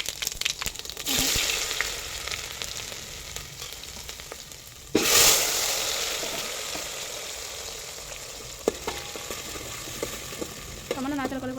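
Cumin seeds hit hot oil in a pan while potatoes and tomatoes wait nearby, giving a steady close sizzle that bursts louder midway and then crackles on alone with a few utensil clinks.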